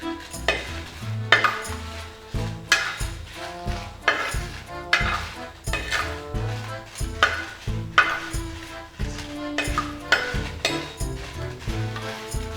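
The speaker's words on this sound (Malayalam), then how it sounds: "ഇപ്പോൾ നമ്മൾ മുളക് വറുത്തെടുക്കുകയാണ്" About ten dry red chillies roast in a pan for a Chettinad mutton roast, with a rhythmic spoon scraping and stirring, and a light sizzle between the strokes.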